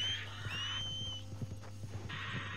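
A horse in the video game Red Dead Redemption 2 whinnies and snorts close up over steady game ambience, with thin tonal game sounds drifting through the brief moment.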